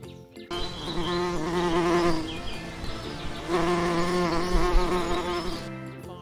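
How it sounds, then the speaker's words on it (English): Steady insect buzzing that hums continuously for about six seconds, a bee at close range with a fairly even drone that swells slightly in the middle, no voices. "B."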